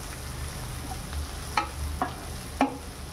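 Potato and capsicum stir-fry cooks in a pan with a soft steady sizzle, broken by three or four light scrapes and clinks of a spoon stirring the vegetables.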